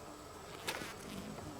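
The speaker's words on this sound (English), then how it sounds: "I don't mind bumblebees. I can get super close." Bumblebees buzz close by in a soft, continuous drone, with one brief louder whoosh as a bee passes near.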